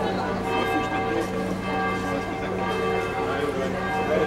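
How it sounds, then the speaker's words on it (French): Church bells ring for a wedding, a faint distant metallic pealing held steadily under outdoor ambience, with soft background murmur throughout. "Il y a les cloches pour les mariés."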